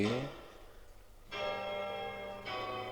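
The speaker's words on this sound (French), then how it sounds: "Je suppose que c'est une cloche géante." A giant bell in the video game Hollow Knight Silksong is struck twice, each deep, rich clang ringing out and sustaining loudly after a fading rumble.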